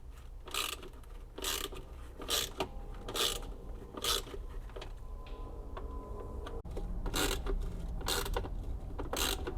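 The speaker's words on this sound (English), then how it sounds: "So these are our T20 Torx bit. We're going to go ahead and loosen those up" A T20 Torx bit loosens the battery hold-down bracket bolts on a Club Car Precedent gas golf cart. Several short, bright bursts of tool noise come close up and alone, spaced with irregular pauses.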